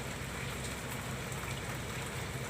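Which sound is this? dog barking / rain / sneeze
rain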